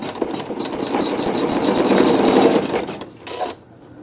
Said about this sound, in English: I'm going to stitch some embroidery.